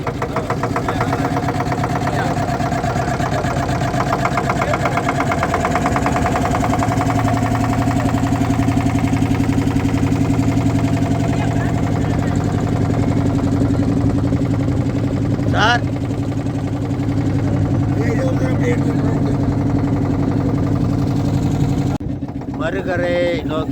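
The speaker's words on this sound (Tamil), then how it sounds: "நோக்கி போட் சென்று கொண்டு இருக்கிறது" A boat engine drones steadily and loudly throughout, crossing the Ganges river at Kashi, with voices faintly present beneath the continuous low rumble.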